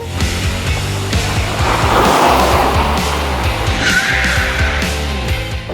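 A car drifting with loud, sustained tire squeal and skidding over a steady engine roar, close and continuous throughout.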